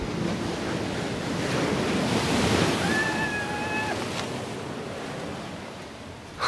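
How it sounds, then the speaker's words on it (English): Ocean waves surge and wash up on a narrow strip of beach at Paradise Cove in Malibu, a steady close roar of broken surf with wind buffeting the microphone throughout. "they're really, really crushing this beach."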